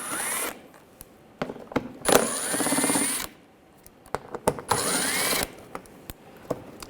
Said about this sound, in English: Now underneath, we're going to take these screws out. Use a 8mm socket.